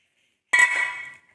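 Soaked chickpeas dropped into a pressure cooker make a single bright metallic clink with a short ringing decay in an otherwise quiet kitchen.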